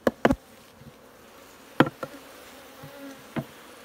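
Japanese honey bees at an old-style hive make short buzzing passes and brief flight hums, several quick close bursts scattered over a quiet background.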